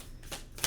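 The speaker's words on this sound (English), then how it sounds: "So let's give these a little quick shuffle." A brief, soft riffle of tarot cards being shuffled, two quick papery bursts close by.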